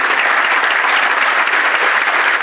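An audience claps steadily and densely throughout, a sustained wash of applause filling a hall with no break and no talk on top.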